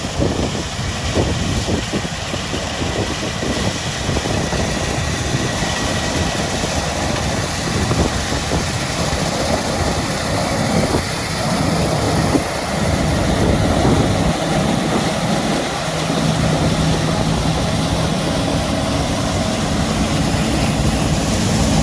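A tractor engine runs steadily through harvest work, a continuous loud mechanical drone with a low rumble and a constant hum, unbroken and close for the whole stretch.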